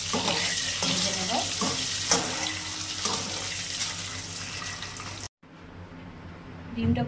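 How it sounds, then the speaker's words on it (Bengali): Eggs fry in mustard oil with a little turmeric in a wok, a steady loud sizzle with scraping and clinking from stirring, then a sudden break into a much quieter stretch. "ডিমটা ভাজা হয়ে গেছে"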